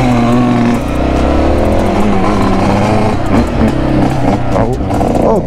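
Yamaha XT250 motorcycle engine revving loudly on an off-road trail, a steady close roar with shifting pitch as it accelerates through the gears, with people talking and calling out over it.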